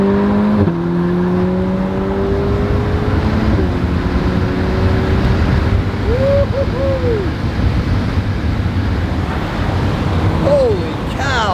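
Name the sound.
Ferrari Portofino V8 engine accelerating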